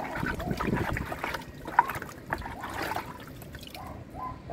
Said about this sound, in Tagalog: At lagyan po natin ng tubig ang ating tinanim.